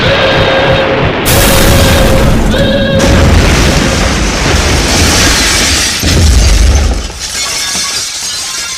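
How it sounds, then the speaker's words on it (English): Big explosion effect in a Doctor Who audio drama, a loud sustained roar with rumbling booms and shattering, crashing debris that fills the whole stretch before easing slightly at the end. "That explosion must have been pretty big."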